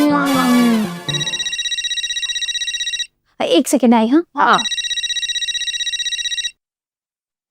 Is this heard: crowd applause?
no